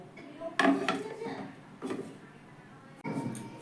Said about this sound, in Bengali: এখানে আমি চার মিনিটের পর ঢাকনাটা সরিয়ে নিলাম